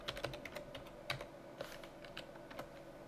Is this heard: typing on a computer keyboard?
yes